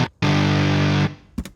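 A heavily distorted electric guitar enters in a rock-metal song production, striking one thick, sustained, buzzing chord that holds loud for nearly a second and then cuts off abruptly, followed by a short, punchy hit.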